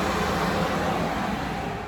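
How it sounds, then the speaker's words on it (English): A dehumidifier runs loudly in a room, giving a dense, steady broadband whir that stays constant and close throughout, fading slightly at the very end. "if you hear this loud noise in the background, there's the dehumidifier."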